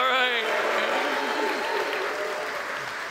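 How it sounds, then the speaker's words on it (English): A crowd at an event cheers and applauds, loud sustained clapping and shouts close by that ease off slightly toward the end. "Hey, can you guys cheer them on real quick?"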